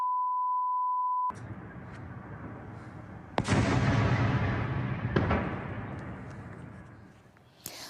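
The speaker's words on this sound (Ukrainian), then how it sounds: "окрім Донецька, вибухи чули також жителі Ясинуватої, а і все зафільмували на відео" After a steady beep, a deep boom rolls out and rumbles on at night in Donetsk, followed by another distant blast fading into a long, low outdoor rumble.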